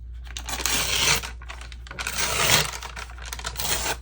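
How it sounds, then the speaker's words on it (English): A strip of paper is torn down by hand in a few quick ripping bursts with short pauses between, close and fairly soft over a low steady background hum. "And then I just tear down"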